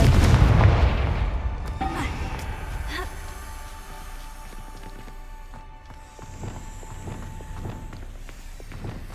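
A Confringo fire spell in Hogwarts Legacy bursts as a loud explosion at the start, its boom fading away over several seconds, followed by soft footsteps and faint ambient game sounds.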